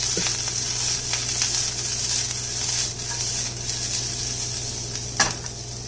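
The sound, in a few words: kale sautéing in a pan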